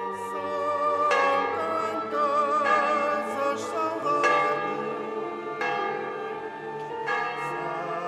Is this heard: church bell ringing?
yes